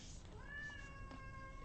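An elderly cat lets out one drawn-out, wavering meow indoors, faint and distant beneath a steady background hiss.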